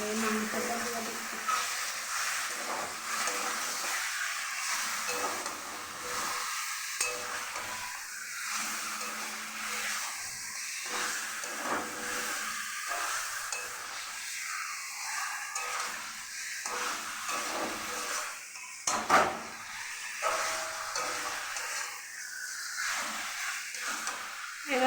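Pieces of meat sizzle and hiss in a hot pan while being stirred, a continuous frying crackle close by with occasional scraping and clinks, and a voice talking intermittently underneath.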